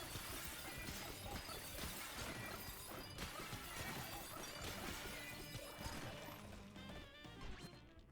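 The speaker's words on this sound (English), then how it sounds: "Smashing stuff." Blocks smash apart in Donkey Kong Bananza, a dense, continuous run of crashing, shattering and thudding impacts that keeps going at steady loudness.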